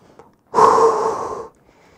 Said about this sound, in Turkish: Derin nefes al,